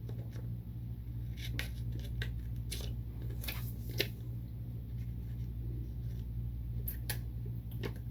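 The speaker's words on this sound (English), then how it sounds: "So what I'm going to cut out is this area right here." Heat transfer vinyl letters are cut out in a series of short, crisp snips and clicks scattered irregularly over a quiet steady background hum, close up and without speech.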